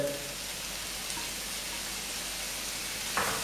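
Bell pepper and onion frying together in a pan for a meat tomato sauce, a soft, even sizzle that holds steady throughout, with a brief clatter near the end.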